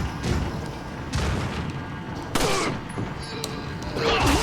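Gunfire, a kick and a knife slash in the video game Resident Evil 4, heavy booming shots and impacts in loud bursts with a brief pause between them, close and dense with no voice.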